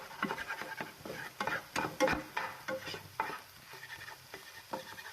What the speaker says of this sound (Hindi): आपने बस इसी डायरेक्शन में इसको चलाते रहना है स्पून को